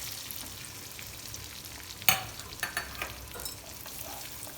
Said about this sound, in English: Now that the oil is hot,